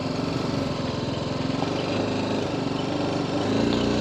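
A motorcycle engine running steadily during slow throttle-control practice, a loud, continuous close-up drone with a slight rise in the last half second.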